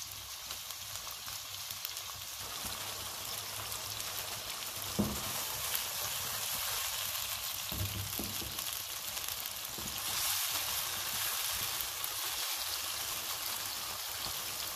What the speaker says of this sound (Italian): A fiamma alta lasciamo appassire i pomodorini per 2-3 minuti.